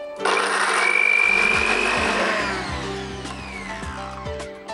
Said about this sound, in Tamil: கொஞ்சம் கொத்தமல்லி போட்டுக்கிறேன். கொஞ்சம் கரம் மசாலா தூள். இது எல்லாத்தையும் இப்போ அரைச்சி எடுத்து வச்சுக்கலாம்.